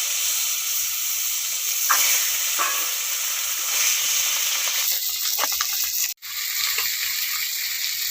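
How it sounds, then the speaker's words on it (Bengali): Small fresh pond-raised carp fish frying in hot oil, a steady broadband sizzle and hiss that runs throughout with a few brief crackles and one short dip, heard close with no talking. "বাকি মাছগুলো আমি ভেজে নিচ্ছি।"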